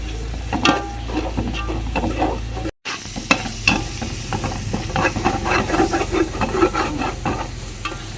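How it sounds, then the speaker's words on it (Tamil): Ginger-garlic paste frying in a pan while yogurt is added for a biryani masala paste, a dense hissing sizzle with frequent stirring scrapes and clinks, close by, broken by one brief silent cut. "இஞ்சி பூண்டு பச்சை வாசம் போக வதக்கியாச்சு இப்போ வந்து நானூற்றம்பது மில்லி தயிர் சேர்த்துக்கலாம்"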